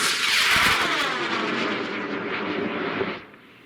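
A faraway model rocket launches with a broad, loud roaring rush that fades steadily over a few seconds as it climbs away into the sky.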